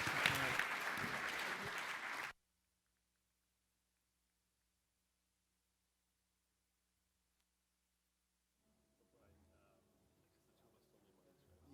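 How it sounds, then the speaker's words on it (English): Audience at a panel discussion on crypto trading claps loudly for about two seconds, then the applause stops abruptly, leaving near silence and faint background noise in the room. "So a big round of applause to these panelists"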